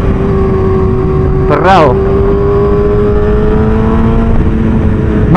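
Motorcycle engine with the throttle opening through a corner, a steady loud drone with a sharp rising rev burst in the middle, while someone talks over it.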